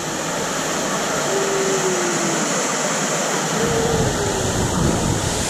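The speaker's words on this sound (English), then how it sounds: "I always love waterfalls." A waterfall at Discovery Cove in Orlando, Florida, pours in a loud, continuous broadband rush that holds steady throughout, with nobody talking.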